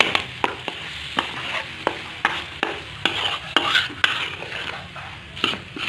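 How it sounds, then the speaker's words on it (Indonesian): Chili is stir-fried in a pan for gulai: a spatula clinks and scrapes against the pan in a steady, repeated rhythm over a soft, continuous sizzle, close up and with no talking. "Kita aduk, tumis sampai kecium aromanya keluar ya bunda."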